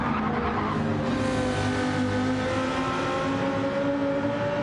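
Lamborghini race car in a sim racing video game, its engine droning steadily and loudly up close with tire squeal running throughout and no talk over it.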